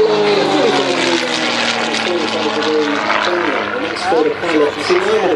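A Gamebird GB1 aerobatic aircraft flies past at an airshow at Sywell, its loud propeller engine drone shifting in pitch as it passes. Someone talks over it almost the whole time.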